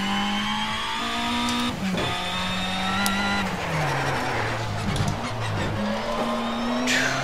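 A race car screams around the Nürburgring in a racing game, its engine note climbing and dropping through gear shifts with tire squeal, loud and steady throughout with no voices.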